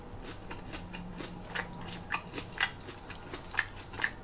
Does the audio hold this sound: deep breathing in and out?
no